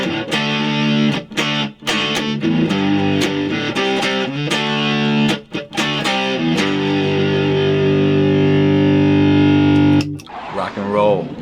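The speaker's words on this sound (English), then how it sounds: "And if we add distortion" Heavily distorted electric guitar power chords ring out loudly in a steady sequence, the last chord sustaining for several seconds before fading.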